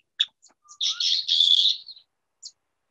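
Pine siskin song: a few sharp high chirps, then a rising, buzzy, wheezing trill that swells for about a second before trailing off, with one last chirp after a pause. Clear and fairly close, with no voices.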